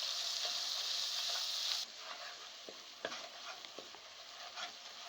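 Brain masala simmering with cream sizzles and hisses in a pan on low heat, a bright steady fry that drops off partway, followed by soft spoon scrapes and stirring clicks, close and fairly quiet.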